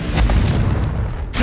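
A Confringo blasting spell explodes in Hogwarts Legacy, a dense roaring burst of low rumble that swells and sustains loudly throughout, with a fresh crack near the end.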